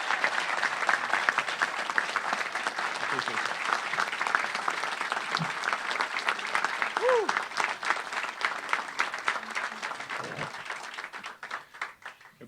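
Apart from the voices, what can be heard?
audience applause for police commissioner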